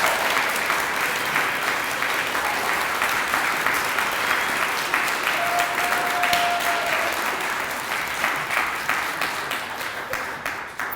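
Sustained applause from an audience at a live monologue performance night, dense steady clapping filling the room for the full stretch and fading slightly toward the end.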